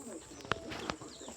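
Sparrow chicks calling, faint thin chirps against a quiet outdoor background, broken by two sharp close clicks.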